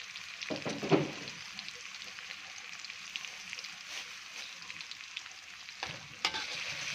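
Curry paste stir-fried in a hot pan for a pork holy-basil stir-fry: a steady, close sizzle throughout, with clattering stirring scrapes around the start and again near the end.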